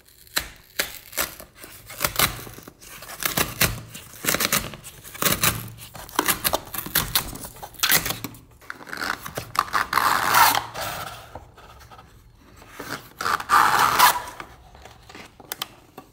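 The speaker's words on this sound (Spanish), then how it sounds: "Ahora vamos a abrir la Mac." Packaging of a MacBook Air M3 laptop being opened: close, irregular bursts of paper and cardboard rustling, sliding and tearing, with scraping pulls and short pauses between them.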